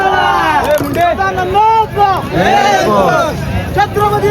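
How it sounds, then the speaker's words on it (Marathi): A loud, dense crowd celebrating Sharad's win at the Usatne ground, many voices cheering and shouting at once in a continuous hubbub, with a brief lull partway through before the noise surges back. "इकडे शरद जिंकल्याने यांचा फुल जल्लोष चालू आहे इथं"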